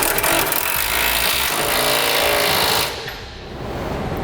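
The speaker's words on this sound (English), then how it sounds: "Now we can tighten down the bolts going through these side brackets into our cross rails." A power tool drives hitch bracket bolts with a 3/4 inch socket on a 2002 Dodge Ram pickup during a B&W fifth wheel hitch install, a loud close buzzing rattle that stops abruptly near the end.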